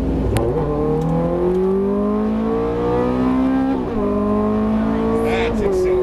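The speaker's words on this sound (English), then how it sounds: "That's accelerating." A Ferrari accelerating hard on a race track, heard from inside: a loud, steady engine roar climbing in pitch through the gears with brief shift dips, with a person talking over it.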